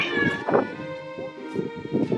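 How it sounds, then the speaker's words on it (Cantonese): A cat meows several times in quick succession, close and clear, with a few short repeated cries over a couple of seconds, in the hilltop village of Civita di Bagnoregio, Italy. "因為呢度有好多貓"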